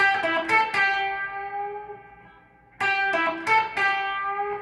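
A clean electric guitar plays the second part of a solo lick: a burst of quick picked notes ringing into a long sustained note, then another rapid run of notes, with no voices.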